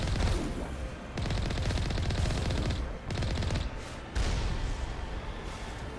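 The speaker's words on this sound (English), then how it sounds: "These Geth and their damn rocket launchers." Geth rocket launchers fire in the Mass Effect video game amid a dense, continuous barrage of booming gunfire and blasts, loud and sustained with a few brief dips between volleys.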